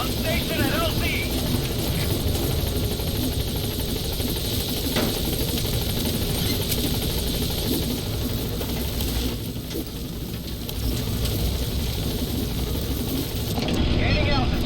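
Pequod helicopter in the video game Metal Gear Solid V, a loud steady rotor and engine drone with rhythmic chopping and mechanical whine, briefly dipping before swelling again, with radio voices speaking over it.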